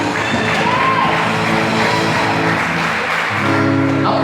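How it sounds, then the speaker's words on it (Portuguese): A church congregation at a Pentecostal-style worship service applauds and cheers, loud sustained clapping with shouts and whoops filling a reverberant hall, steady throughout. "Aplauda Jesus."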